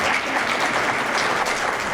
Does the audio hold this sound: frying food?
no